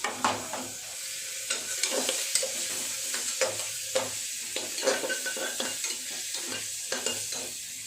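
Chopped onion fries in a pan for chicken stew, a continuous sizzle broken by frequent sharp scrapes and taps of a utensil stirring in an irregular rhythm, close and fairly loud, no voices.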